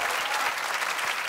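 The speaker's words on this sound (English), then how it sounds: "they're applauding" A studio audience claps in a short, dense burst of loud, steady applause with no voices on top.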